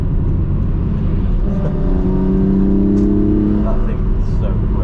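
A naturally aspirated Toyota Supra with individual throttle bodies at Oulton Park during a trackday, with a loud steady engine drone and a car passing on the track. Heavy wind buffeting runs throughout.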